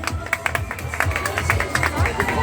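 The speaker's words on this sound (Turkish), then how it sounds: "Onur'a bir alkış gelsin bakayım" A crowd gathered at a greasy pole contest on a pier claps for a competitor, scattered applause and hand claps mixed with voices and chatter, moderately near.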